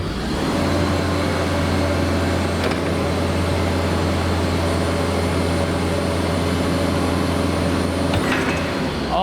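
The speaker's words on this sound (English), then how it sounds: "now what we're gonna do is basically extend the mast all the way to the top" A Yale GLP060MX 6,000 lb propane (LP) forklift runs steadily as its mast extends to full height, producing a loud, continuous engine and hydraulic drone that holds level throughout, with faint clunks near the start and end.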